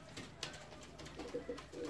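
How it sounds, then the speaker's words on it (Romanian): Fancy pigeons in an aviary coo softly in a few short, low, throaty calls, faint and somewhat distant against quiet background noise. "După cum puteți observa, porumbeii sunt sănătoși și plini de energie."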